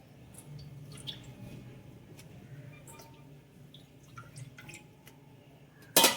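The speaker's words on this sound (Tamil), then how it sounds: "வெங்காயம், இஞ்சி எல்லாத்தையுமே கழுவுறோம்." Onion and ginger washed by hand in water give soft, intermittent splashes and drips, faint and close, with a brief louder clatter at the very end.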